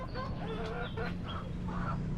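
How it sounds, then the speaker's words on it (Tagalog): Several chickens cluck and murmur softly nearby on a flood-prone farm over a steady low hum, with short overlapping calls. "Kaunti na lang ang aking manok dito kasi baha ito."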